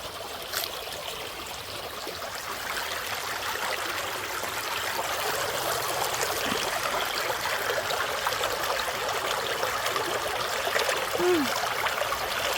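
Creek water flows steadily over stones, a close and constant babbling rush that stays even throughout with no talk.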